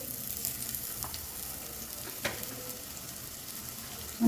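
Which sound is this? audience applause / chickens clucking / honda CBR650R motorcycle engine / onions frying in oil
onions frying in oil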